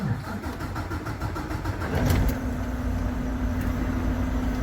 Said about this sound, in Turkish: marşa basalım